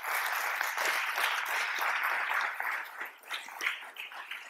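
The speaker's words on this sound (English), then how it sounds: "A big round of applause to the panelists" A conference audience applauds panelists at a tech event, a dense, sustained clapping that thins out and fades toward the end.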